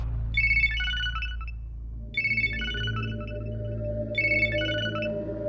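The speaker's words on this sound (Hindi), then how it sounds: "भाई रिंग बज रही, वो उठा नहीं रहा है" A phone ringtone chimes three times at even intervals over a steady low hum, fairly faint, with no one speaking.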